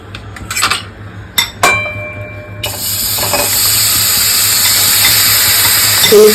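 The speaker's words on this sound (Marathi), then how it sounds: "आपण खवा फ्राय करून घेऊयात" Khoa frying in ghee in a pan: a few utensil clinks, then a loud, steady sizzling hiss that takes over and holds.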